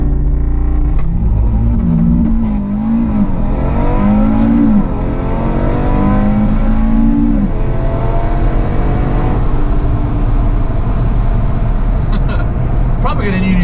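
A Stage 2 Audi RS3 running on E85 launches hard and accelerates, its engine rising in pitch through several gear changes with a steady loud rumble and road noise throughout.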